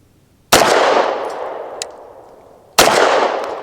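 Two sharp, loud pistol shots about two seconds apart from a BUL Armory TAC PRO 5-inch ported pistol firing 124 grain jacketed hollow point rounds, each with a ringing decay, plus a faint metallic clink between them.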